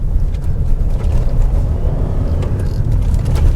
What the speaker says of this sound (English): So let's give it another acceleration here.